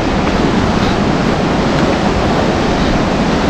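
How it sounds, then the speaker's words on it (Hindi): Fast-flowing Ganges river current at Rishikesh, a steady loud broadband rush of water with no breaks, heard close and alone without voices. "गंगा मैया कुछ इस प्रकार दिखाई दे रही है अभी, तो ये काफ़ी तेज है, मतलब बहुत तेज बहाव है"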